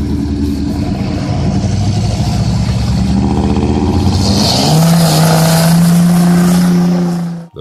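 Two cars tied together by a tow rope race along a road, engines roaring steadily and revving hard, the pitch climbing into a sustained high-revving whine before cutting off abruptly.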